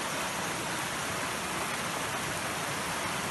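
The Khazny Don river flows in early-morning countryside as a faint, steady broadband rush of water, continuous and distant-sounding with no voices.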